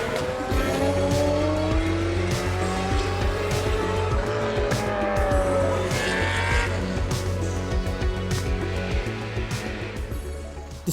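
A Ferrari F355 GTS sports car from the 1990s driven hard, its engine revving up and down through gear changes with a loud, close, sustained rasp and brief tyre squeal.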